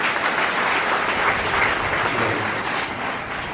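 A church congregation claps loudly and steadily after a deliverance testimony, a dense, sustained wash of applause from many hands that holds at full strength throughout, with no talking over it.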